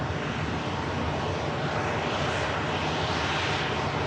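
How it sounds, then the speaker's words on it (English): A Canadian Air Force Hercules military propeller aircraft comes in to land at Manchester airport, its engines giving a steady, loud, broadband roar that holds throughout with no voices. "It's a military aircraft, commonly used by military"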